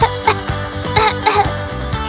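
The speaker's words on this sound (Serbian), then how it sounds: "Šta? Kašlješ?" A girl feigning illness in a comedy sketch gives a quick run of short, throaty, voiced coughs, about six in two seconds, close and loud.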